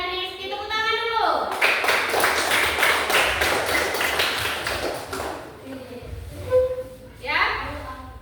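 A primary school class claps hands together for top-scoring students, a burst of rhythmic clapping in the middle, with a teacher speaking before and children's voices after.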